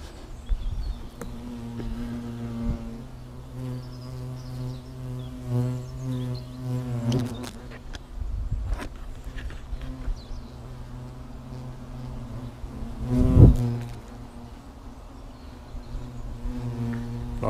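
European hornets buzzing around a tree trunk, a continuous droning hum of several insects close by, rising and fading as they fly past, with a few sharp knocks.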